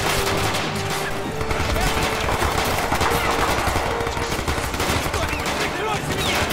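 Rapid machine gun fire in the Call to Arms video game during a Stalingrad battle, dense crackling bursts over a continuous battle din, loud and sustained throughout.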